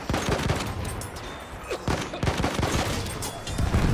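Rapid bursts of Glock 18 automatic pistol fire in the video game Battlefield 1, dense crackling shots in quick strings with a steady game background behind them.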